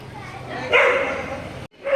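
A dog gives a short yelping bark or whine outdoors on an evening temple visit, one brief call near the middle with voices around it.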